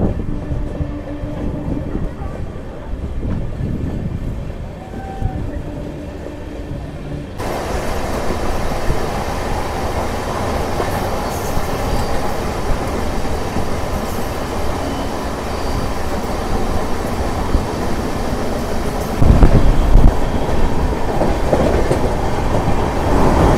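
Sabari Express LHB train running after leaving Bapatla station, a steady loud rumble of wheels on rail with clickety-clack and wind noise heard from onboard, swelling louder partway through and continuing without speech.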